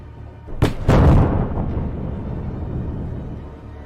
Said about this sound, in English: HIMARS promptly delivered 2 strikes.